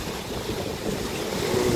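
Stream water rushing past a traditional water mill (ghatta) in Molung, Okhaldhunga, Nepal, a steady, close, broadband roar with no voices.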